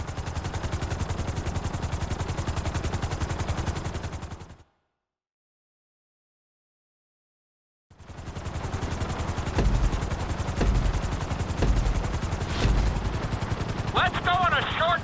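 Helicopter rotor drone in GTA V during a flight-school chopper lesson: a steady loud thrum that cuts out for a few seconds, then resumes with sharper impacts and clatter layered over it.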